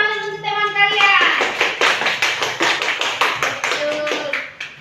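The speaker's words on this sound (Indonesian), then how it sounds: "Tepuk tangan untuk teman kalian." Classroom students clapping for a classmate, a burst of fast rhythmic applause that settles into a steady patter of claps, with a teacher's voice at the start and children's voices mixed in.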